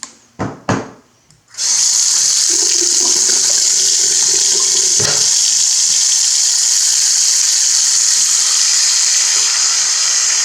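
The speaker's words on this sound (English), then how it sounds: "The water valves are turned on." After a few sharp knocks and clunks as water valves are turned on, water gushes steadily from a new sink tap in a remodeled bathroom, a loud continuous hissing stream running without pause.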